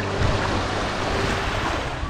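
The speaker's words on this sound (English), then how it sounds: "The waves are super strong." Strong ocean waves roll onto the shore at Fish Point in Tanzania, a continuous loud rushing wash of surf mixed with gusty wind buffeting the microphone.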